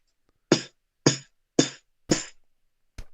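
Five sharp, close percussive vocal bursts, each a short noisy snap with a quick decay, evenly spaced about half a second apart, as a beatboxer imitates a snare drum with the mouth, alone with no talk.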